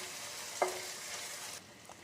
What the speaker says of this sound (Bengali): এই মশলা টমেটো একসঙ্গে কষিয়ে রান্না করে নেব 3 মিনিট মতো।